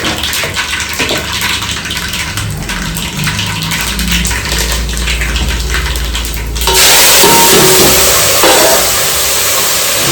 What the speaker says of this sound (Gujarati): અત્યારે હવે હું મગનો વઘાર કરી રહી છું